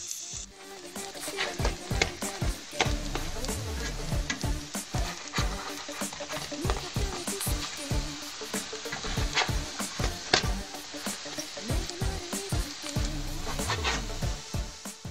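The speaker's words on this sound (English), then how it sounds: "Fry until golden brown." Hotteok, Korean filled pancakes, sizzle steadily in a frying pan over about fifteen seconds. A close, continuous crackle is broken by frequent scraping and stirring clicks, with no voices.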